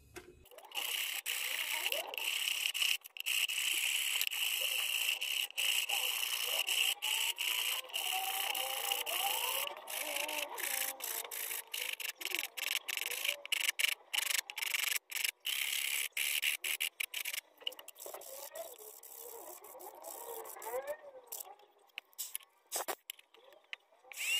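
Hand sanding a wooden spoon handle with coarse 40 and 80 grit sandpaper, a steady scratchy rubbing that runs close and continuous, then turns choppier near the end.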